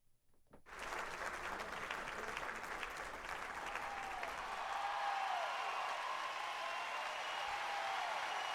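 A crowd bursts into steady, sustained applause that starts suddenly and carries on evenly to the end, heard alone.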